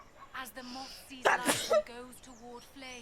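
A single sharp sneeze bursts out in the middle of talk, loud and close, with speech continuing before and after it.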